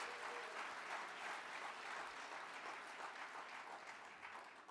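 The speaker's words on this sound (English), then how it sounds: "That deserves a round of applause." Audience at a university scholarship and awards gala breaks into sustained applause, a dense wash of many hands clapping that holds steady and then begins to taper at the end, fairly distant and soft.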